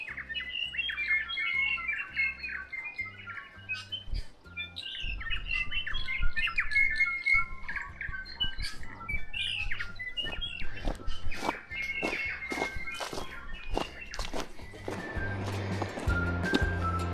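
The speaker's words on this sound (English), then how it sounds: "There's been a lot more bird life today" Birds chirp and call in a tree along the Old Ghost Road hiking trail. Bright, busy tweets and squawks repeat close by, with some clicking or footstep-like taps toward the end.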